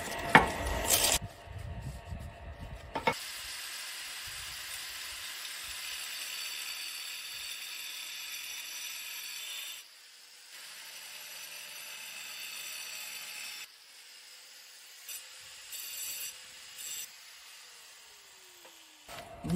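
A 125 mm diamond disc on an angle grinder cuts a ceramic floor tile with a steady high grinding hiss, broken by short pauses and starting again, fairly close, with no talk.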